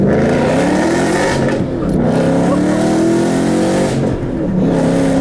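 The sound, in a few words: 2013 Ford Mustang GT engine accelerating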